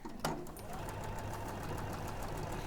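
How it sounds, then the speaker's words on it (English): A domestic sewing machine stitches a cushion or tote bag, a steady rapid mechanical chatter with a sharp click at the start, running continuously and fairly close. "I'm just going to start again halfway through that line where I think that it stopped stitching."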